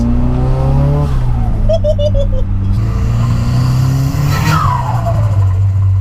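A loud, raspy 200 BHP Toyota Starlet engine with a screamer pipe exhaust revs and roars continuously with an aggressive exhaust note, tires briefly squealing in the middle.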